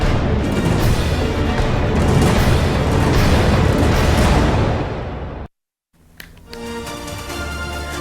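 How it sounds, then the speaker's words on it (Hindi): A loud, roaring blast from an explosion in the middle of a road in Solapur, India, fills the air for several seconds, then cuts off abruptly before quieter street ambience returns. "सोलापुर के बीच सड़क में जोरदार धमाका हो गया"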